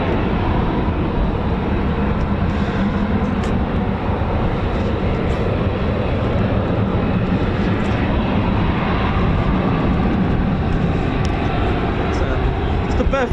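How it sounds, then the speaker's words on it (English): An F-35 fighter jet at RAF Lakenheath gives off a constant, loud broadband roar that holds steady the whole time without rising or fading. "Look at this lonely F-35 there now."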